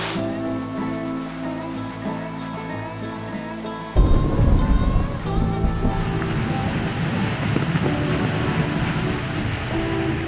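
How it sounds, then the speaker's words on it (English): Rain begins falling on a camper during a storm, a steady broadband hiss that swells abruptly partway through and then keeps going, close and fairly loud, with no talking. "It's starting to rain."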